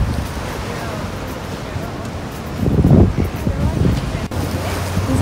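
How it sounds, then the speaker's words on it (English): Ocean waves crash against the shore near a spot where people sit in parked cars watching the rising water, a steady windy surf roar that swells louder midway with gusts buffeting the microphone. "the waves are crashing all over here and the water's coming up pretty high"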